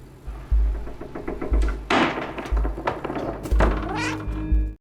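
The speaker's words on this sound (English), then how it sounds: "meowing to actually solve this puzzle" Cat meowing in the video game Stray, several short meows at intervals over rhythmic game thuds and a steady low hum, fairly loud and close.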